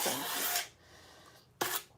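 Hand sanding of wood sides: two bursts of dry, raspy rubbing, a longer stroke followed after a pause by a short second one, close and fairly quiet with no talk.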